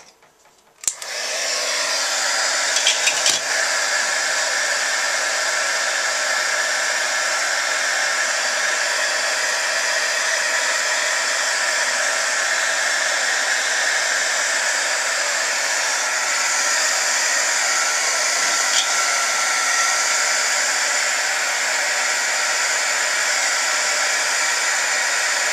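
A handheld heat embossing tool blows steadily to heat-set embossing powder on a stamped image, a loud, constant whirring hiss that starts after a brief click and runs unbroken for the rest of the clip.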